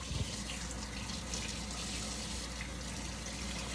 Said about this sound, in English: Wash your hands good.